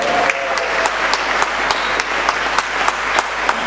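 A church congregation applauds at a Sunday Mass, a dense, loud, continuous round of clapping that stays steady throughout with no voices over it.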